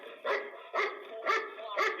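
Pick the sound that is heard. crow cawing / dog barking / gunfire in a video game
dog barking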